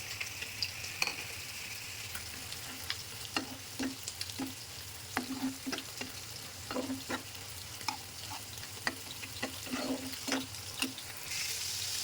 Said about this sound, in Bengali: এখন আমি এটার মধ্যে দিয়ে দিব শুটকিটা আমি ভেজে রেখেছিলাম, মানে একটু ভেজে নিচ্ছি